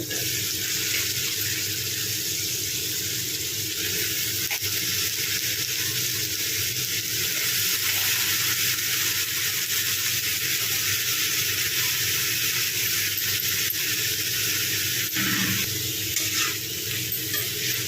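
Cut eggplant pieces go into tomatoes softening in hot oil, giving a steady, even sizzling hiss that holds without a break from start to finish.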